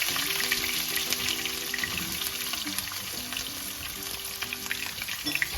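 Garlic and onion frying in a pan give a steady, close sizzle with a bright hiss and small crackles, running continuously with no talk.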